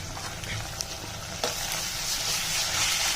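Sliced onions and grated potato fry in hot oil in a pan for tomato kurma, making a close, even sizzle that briefly swells after a small clatter midway and continues without any talk.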